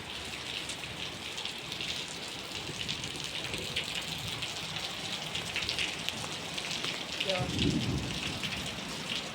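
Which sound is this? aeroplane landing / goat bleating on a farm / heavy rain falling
heavy rain falling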